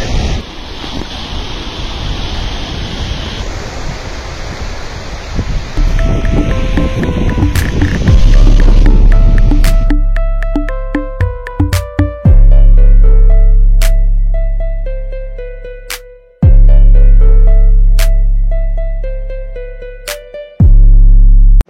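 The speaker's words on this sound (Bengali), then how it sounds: "সাগরের যে সাউন্ড দিতেছে মনে হইতেছে ঝড় হইতেছে, ঝড়" Ocean surf and gusting wind roar on Saint Martin's Island beach, a loud broadband wash for the first several seconds before a sustained musical tone takes over.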